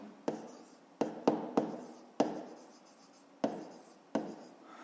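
Pen strokes write numbers by hand while working a fifth-grade math exercise, with close, distinct scratchy taps arriving in irregular bursts and fading between strokes.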